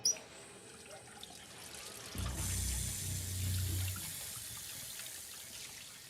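A tap runs indoors as someone washes, the water gushing in for about two seconds after a quiet start, then fading away into near silence with no voices.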